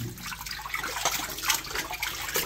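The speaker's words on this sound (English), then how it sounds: "Wash by hand like back in the old times." Clothes washed by hand in the tub of a Maytag top-load washer, model MVWC565FW2, giving a steady close splashing and sloshing of water with continuous liquid churn and no talk.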